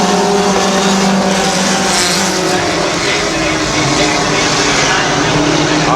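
Race cars roar around the dirt oval at Midvale Speedway in a continuous loud engine drone from a pack of cars running close together, with an announcer talking over the din.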